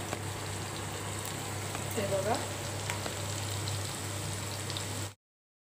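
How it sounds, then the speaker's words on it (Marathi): Mustard seeds, cumin and garlic sizzling in hot oil for a dabeli tempering, a constant crackling fry close by under a low hum, with someone speaking briefly before it cuts off. "आता तेल पूर्ण तापलेलं आहे आणि यात मम्मीने आता मोहरी टाकले आणि जिरे"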